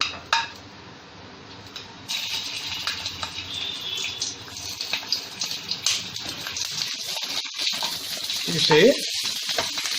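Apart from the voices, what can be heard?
green chillies frying in oil in a pan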